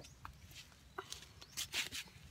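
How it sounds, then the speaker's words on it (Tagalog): Chickens kept at a house cluck softly in a quick series of short, faint calls close by, with no talk over them. "Ito pong mga manok nila."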